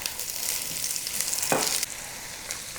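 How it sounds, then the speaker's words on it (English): Onions slide into a pan of hot oil with lightly golden garlic, a bright steady sizzle with a louder burst of crackling midway, close and without speech. "now we're gonna go ahead and slide our onion in"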